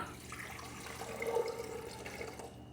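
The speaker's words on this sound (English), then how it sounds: "we're gonna add in 12 ounces of water" Twelve ounces of water pours into a blender jar in a kitchen, a soft, steady splashing stream lasting a couple of seconds, fairly quiet and close.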